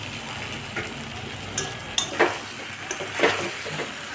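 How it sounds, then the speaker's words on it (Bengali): Fried potatoes tumble into a pan of sizzling masala for Kashmiri aloo dum, bringing a steady close sizzle broken by several sharp clatters and scraping stirs. No one speaks. "এবার এর মধ্যে ভেজে রাখা আলুগুলো আমি সব দিয়ে দিচ্ছি।"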